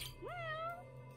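A single rising meow from a cat in the video game Judgment, short and clear, over a faint steady background hum.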